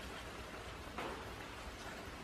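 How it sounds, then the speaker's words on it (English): Steady rain falling outdoors, a dense even hiss throughout with a slight surge near the middle, no voices. "it's raining really pretty well right now"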